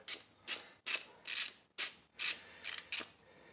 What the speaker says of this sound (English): tighten in this bolt all the way